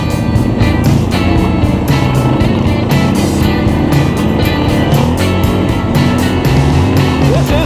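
ATV engine droning steadily while riding on club trails in Norfolk, a loud continuous motor hum with shifting revs close to the microphone, and voices are faintly heard.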